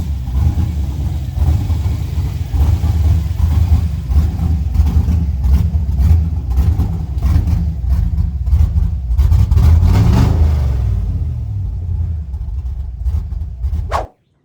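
A truck engine still in need of tuning runs steadily, its continuous low rumble rising slightly before cutting off abruptly at the end.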